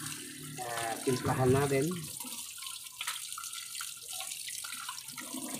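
Chicken skin being washed under a running kitchen tap, a steady broadband water rush throughout, with someone talking loudly over it near the start and brief clatters and splashes later.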